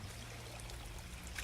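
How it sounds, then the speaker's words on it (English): Rushing floodwater pours out from destroyed dams during a battle in Dynasty Warriors 9, a steady, dense wash of flowing water heard quietly and alone. "What is this? Water?"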